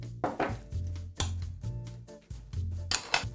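Mayonnaise being stirred through a salad in a bowl, with a utensil knocking and scraping in irregular bursts and a few sharp clinks against the bowl, close up and moderately loud, no talking.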